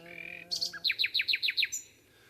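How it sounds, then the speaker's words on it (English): A nightingale sings near a folk singing performance: a brief sustained tone, then a quick run of about eight bright, evenly spaced repeated notes, clear and fairly close. "nightingale is singing"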